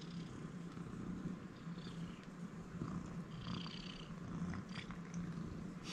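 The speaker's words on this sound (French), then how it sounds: "je sais pas si vous l'entendez ronronner" A pet cat purrs steadily up close, a soft continuous rumbling drone with faint background noise.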